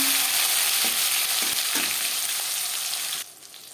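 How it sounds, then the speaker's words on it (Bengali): A bay leaf tempering in hot oil, with chopped tomatoes to follow, for a tilapia fish curry with potato and cauliflower. It gives a loud, steady sizzle and crackle that drops to a softer hiss near the end. "একটা তেজপাতা ফোড়ন দশ পনেরো সেকেন্ড ভেজে নেওয়ার পর দিয়ে দেবো টমেটো"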